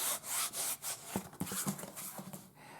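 Soft, close rubbing and scratching on a textured fabric book cover in repeated strokes, quiet and dry, with no voices.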